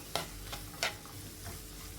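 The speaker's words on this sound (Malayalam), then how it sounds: "ഇതിലേക്കൊരു മൂന്ന് മീഡിയം സൈസിലുള്ള സവാള ചെറുതായി കട്ട് ചെയ്തിട്ട് കൊടുക്കുക സവാള നല്ല ഗോൾഡൻ കളറാവുന്നത് വരെ വഴറ്റിയെടുക്കണം" Three medium onions, finely chopped, sauté in a pan for kothu chapati with a quiet, continuous sizzle and a few soft spatula strokes, heard close and without talk.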